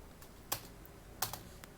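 Keys on a computer keyboard are pressed during spreadsheet work in Excel, three distinct clicks spaced apart over a faint background hiss, fairly quiet and close.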